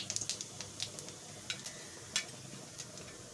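A teaspoon of whole cumin seeds fries in hot oil left over from frying eggs, giving a faint crackle with quick, scattered pops and sputters.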